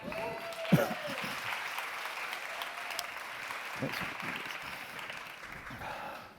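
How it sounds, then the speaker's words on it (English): Steady applause rises from a tech conference audience as a speaker is brought on stage, a broad sustained patter of many hands with a few sharp nearby claps and voices mixed in. "Round of applause for Shaft."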